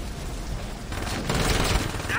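Dense, continuous automatic gunfire in Saints Row, a loud unbroken rattle of shots that swells slightly toward the end, with no talking.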